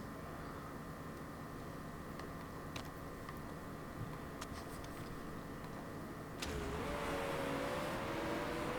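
Race car in the Motorsport Manager game roaring past, a faint engine drone that swells suddenly into a loud, rising whine near the end.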